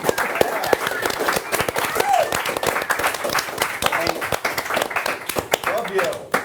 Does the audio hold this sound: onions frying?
no